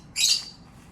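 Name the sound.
birds calling in a bird reserve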